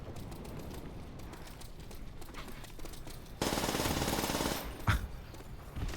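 Automatic fire from a drum-magazine machine gun in a WW2 video game, a dense continuous burst that grows louder midway through and carries on steadily to the end, with no voices.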